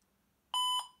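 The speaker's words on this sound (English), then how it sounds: "it's probably going to make a nasty beep sound, like beep or something" A single electronic beep from a 1990s IBM ThinkPad i Series laptop booting with a failing CMOS battery, steady and bright with a sharp start, holding about a quarter second before a brief repeat tail, loud against a quiet background.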